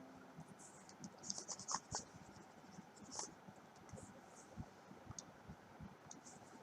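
Pen scratching across paper while solving a bills of exchange accounting problem, a steady stream of soft, faint scribbling strokes and small clicks with no talk.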